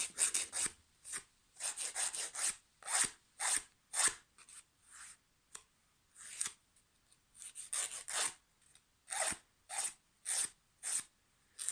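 A nail file rubs across fingernails in short, rhythmic bursts of close, dry rasping during a manicure, with brief pauses between strokes as the ends are bevelled.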